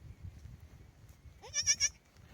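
A single quavering bleat from a goat that has just given birth, close and fairly loud, rises out of quiet background noise.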